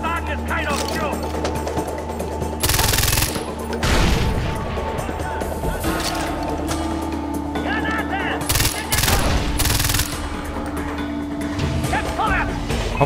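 Gunfire in the video game Far Cry 4: several loud bursts of rapid automatic fire and sharp blasts break over game noise, and someone talks between the shots.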